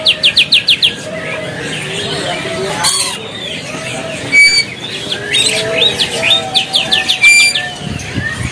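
Crowded bird market stall at Pasar Pramuka with Australian parakeets for sale, loud overlapping chirps and quick trills from many caged birds, clucking and crowing fowl mixed in, busy and close throughout.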